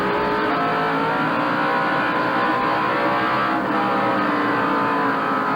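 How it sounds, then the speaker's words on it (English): Stock cars at the 1988 NASCAR First Union 400 roaring loudly as they accelerate and ease off into a turn, a dense continuous engine drone with rising and falling pitch. "You can hear them accelerate and decelerate as they go into the turn."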